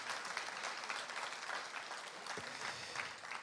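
A church congregation claps and cheers for its pastors, dense sustained applause filling the room at steady loudness throughout, with no speech over it.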